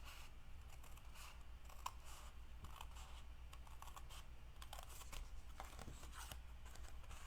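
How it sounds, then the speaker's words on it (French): Scissors cut through a card for a scrapbooking decoration in a series of quiet, irregular snips and crisp clicks, close up and faint, with no talking. "Je vais y aller avec les ciseaux."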